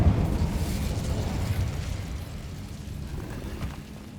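Incendio fire spell cast in Hogwarts Legacy, a low whooshing burst of flame that starts loud and rumbles on, gradually fading over a few seconds with no voices.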